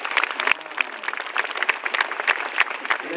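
Church congregation applauding at an outdoor Simbang Gabi Mass in Dubai, a dense, steady clatter of many hands clapping together, with scattered sharper claps standing out and no break across the span.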